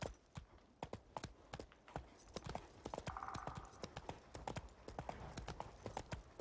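A horse in The Witcher 3 video game clip-clops steadily along, its hooves striking in a quick, even rhythm throughout. The hoofbeats are crisp, fairly close, and have a faint background underneath.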